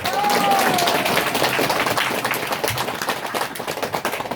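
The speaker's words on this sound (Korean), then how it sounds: "진짜 큰 박수 한번 주세요." Applause at a party office opening ceremony, a busy patter of many hands that starts loud and gradually thins, with a brief tone and some voices mixed in early.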